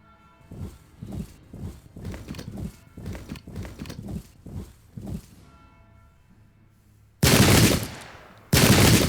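Musket volleys in the video game Pike and Shot Campaigns come as a rapid series of about ten ragged, booming shots, then after a pause two long loud bursts of massed gunfire.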